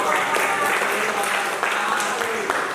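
Classroom applause after a student group presentation, a dense patter of many hands clapping steadily and fairly close for the whole stretch, with a few voices mixed in underneath.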